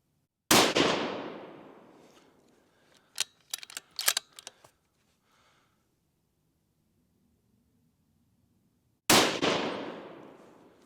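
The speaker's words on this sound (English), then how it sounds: "Let's shoot a few rounds through the other pasty and see what happens." Rifle shots fired at a target from close range: one sharp loud crack with a long decaying echo, a brief cluster of metallic clicks as the action is worked, then a second crack after a quiet gap.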